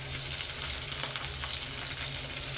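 Dried fish (daing) sizzles and crackles steadily in a hot pan of oil, a close, continuous frying hiss with small pops and no voices.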